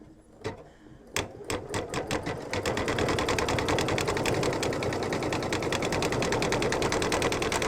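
An embroidery sewing machine stitching an in-the-hoop mug rug starts with a few separate needle strokes, then settles into a fast, steady mechanical chatter, close and continuous.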